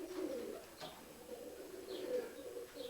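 A pigeon in a loft coos softly and steadily, low rolling throaty calls that run through the whole stretch, faint and close, with a few light chirps above.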